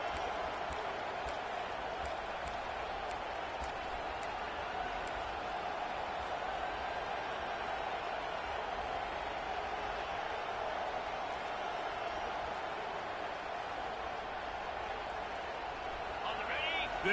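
A football stadium crowd roars continuously during a game, a steady, dense wash of cheering and noise from many people throughout, with a commentator talking over it.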